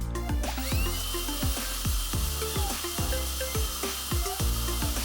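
An improved model of a powerful electric car-drying blower runs close and loud, a steady rushing whine broken by rapid repeating clicky tonal pulses, no voices.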